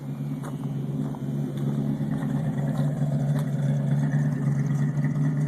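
A 1973 Ford Mustang's 351 V8 idles nearby through a Y-pipe into a single exhaust, a deep, steady rumble, low and throaty with a constant drone and no voices.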